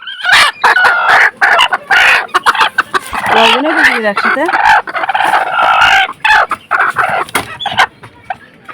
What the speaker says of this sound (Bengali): দুইটা মোরগ আর পাঁচটা মুরগি আইছে